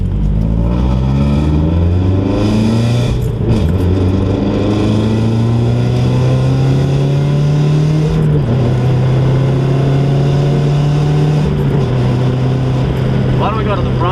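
A car accelerating, the engine droning loud and continuous from inside the cabin and rising in pitch in several long pulls, with a brief dip partway through.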